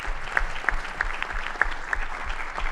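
A room at a school committee meeting fills with steady applause, and a few sharper individual claps stand out from the sustained clapping.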